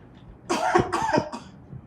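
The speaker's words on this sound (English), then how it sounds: "I just picked up this cough yesterday" A single patient's cough at a coronavirus screening, a close, loud burst of two or three harsh hacking pulses in quick succession followed by a faint trailing breath, with no talk.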